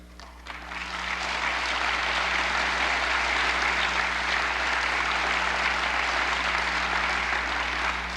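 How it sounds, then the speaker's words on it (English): Lecture audience applauding in a hall, a dense sustained wash of clapping that builds within the first second and holds steady at full strength throughout, with no talking over it. "Now, you applaud at that"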